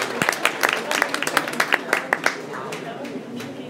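Audience applause at a book launch in an indoor venue, a patter of scattered claps that builds with sharp individual hand claps and then thins out, heard fairly near with a murmur of voices underneath.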